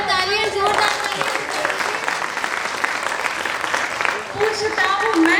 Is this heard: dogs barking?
no